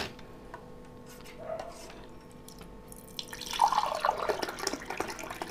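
A spoon stirring a sattu drink in a glass gives soft clinks and liquid swishing, quiet at first and busier in the second half.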